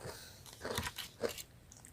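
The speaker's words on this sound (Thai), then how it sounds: "กินก่อนนะอร่อยหมดละ" Someone eating hospital food, a few close crunching bites and chewing sounds, brief and fairly quiet with no talk.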